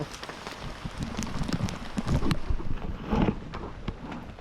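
Rain falling outdoors during jackfruit wrapping, a steady broadband patter with gusty wind buffeting the microphone and a few louder thumps, fairly close and continuous with no voices.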